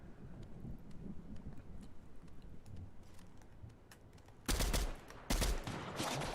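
Gunfire in a video game heard as a few loud, abrupt cracks near the end, following several seconds of low windy rumble and faint ticking, with no talk.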